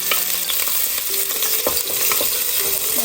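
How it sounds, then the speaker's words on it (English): Garlic sautéing in hot vegetable oil in a heated pan, a steady bright sizzle with occasional clinks and scrapes of stirring, close and continuous. "let's start sauteing the garlic"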